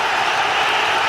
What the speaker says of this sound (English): there's a massive round of applause going around the ground